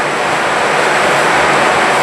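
Heavy rain pouring down outdoors, a loud, dense, unbroken hiss close by that holds steady from start to finish with no voices over it.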